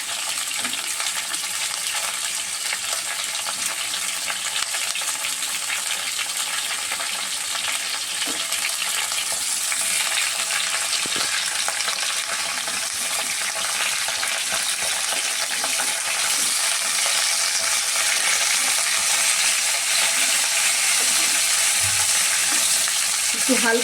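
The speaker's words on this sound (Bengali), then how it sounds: "একটু হালকা ভাজা ভাজা করে নেব।" Okra (bhindi) fries lightly in a pan, giving a continuous soft sizzle with the scrape and rattle of stirring running through it and no one speaking.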